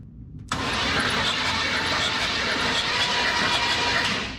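A 1988 Chevrolet 3500 hauler truck engine that has been slow to crank turns over and catches. It opens with a brief muffled cranking and then runs as a loud, rough, steady roar up close.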